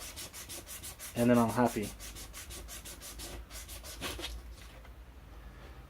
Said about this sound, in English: I just sand it so that it works,